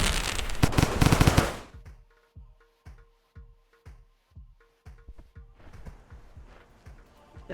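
A firecracker plant in the Rain World video game bursts in a rapid crackling volley, followed by a string of sharp separate pops at an irregular rhythm, close and loud, with no talking.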